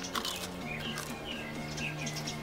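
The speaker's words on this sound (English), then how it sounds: "Shut up, birds." Birds chirping outdoors, a few faint high tweets scattered over a steady low background hum, distant and soft with no talk.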